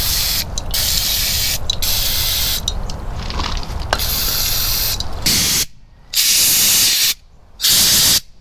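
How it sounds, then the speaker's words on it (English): Compressed air blasting debris from around the cylinders of a 1942 Farmall M tractor engine that sat for over twenty years, loud close hissing bursts with short gaps, long at first, then three clipped blasts. "We have to blow out around here. We don't want any stuff falling into the cylinders."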